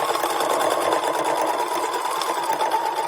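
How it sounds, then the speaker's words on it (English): A sewing machine straight stitching fabric strips for a skirt, running in a steady, fast, even whir close by, with no voices. "then just straight stitch it up and back"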